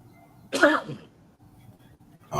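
A single sharp sneeze bursts out nearby, followed by quiet, with another noise starting abruptly at the very end.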